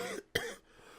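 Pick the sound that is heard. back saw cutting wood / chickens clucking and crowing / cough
cough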